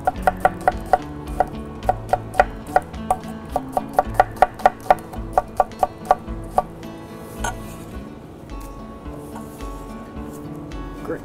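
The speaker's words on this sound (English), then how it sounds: "Take one onion. We will Julienne this onion." A knife julienning an onion on a cutting board, with a quick run of sharp, evenly spaced chops close by that speeds up, then stops partway through.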